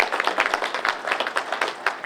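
A small audience listening to a speech claps in scattered, uneven bursts, the sharp individual claps fairly close and not merging into a full roar.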